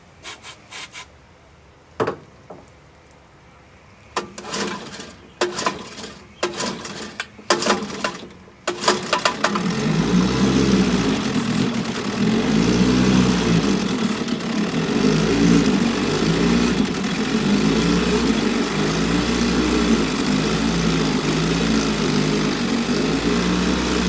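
A 1964 3hp Evinrude outboard motor, prone to overheating, first sputters with rough handling noises, then catches and runs at a loud, steady, buzzing idle for the remaining time.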